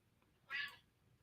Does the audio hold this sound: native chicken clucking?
no